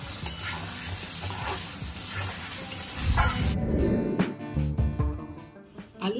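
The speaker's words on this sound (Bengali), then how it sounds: "এবার আমি আলু ভালো করে আর একবার মশলার সঙ্গে কষিয়ে নেব।" Boiled potatoes are stir-fried with spices in a pan for aloo dum, with loud sizzling at first and then scraping and stirring of a utensil against the pan.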